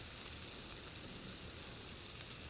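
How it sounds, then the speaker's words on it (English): Crawfish sizzle in a hot pan for Cajun sliders, a steady bright frying hiss throughout with no pauses or voices. "We got a good sizzle going on."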